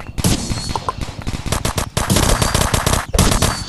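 Rapid machine-gun fire in a shooting video game, loud close bursts of dense shots with short gaps between volleys and no talking.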